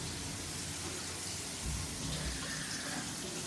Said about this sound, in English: We'll go ahead and kick the tubs on in the shower as well.